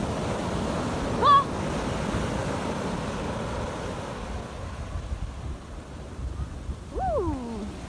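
Sea waves washing onto a beach: a steady, close surf wash with wind noise on the microphone, a brief squeal early on and faint voices or cries near the end.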